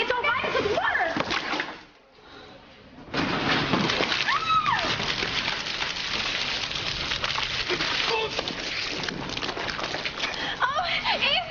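Water splashes and sloshes in brief wet bursts of splatter, mixed in with people talking nearby and a short quiet gap early on.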